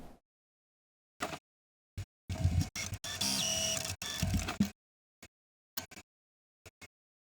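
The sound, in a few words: sewing machine sewing dress side pieces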